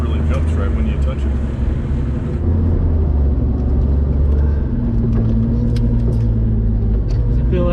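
An off-road vehicle drives in four-wheel-drive low on a practice course, its engine rumbling steadily and loudly up close throughout, with a shift in engine tone partway through.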